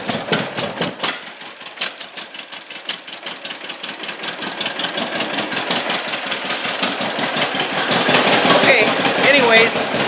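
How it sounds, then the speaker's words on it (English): A 1943 John Deere Model B tractor engine being cranked over by hand, starting with separate loud knocks that quicken into a steady rhythmic chugging pulse, close and growing louder to the end. "you crank this over until you get some fuel to come out these cylinders"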